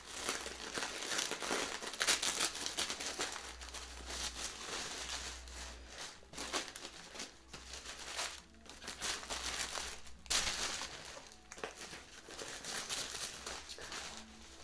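Tissue paper crinkles and rustles steadily while an unboxing is handled up close, with dense crackling bursts that swell and fade over several seconds, no voices present.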